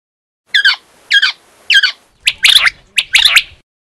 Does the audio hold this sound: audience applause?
no